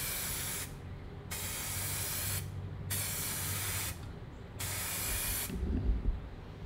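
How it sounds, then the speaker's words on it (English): An aerosol spray can hisses in four bursts with short gaps while self-etching primer goes onto bare metal spots of a Chevy C10 fire truck cab, the spray loud and close. "So I'm gonna start with painting those bare spots over there"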